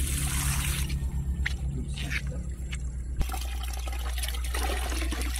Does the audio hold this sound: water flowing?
yes